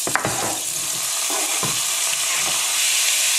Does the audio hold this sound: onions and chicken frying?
yes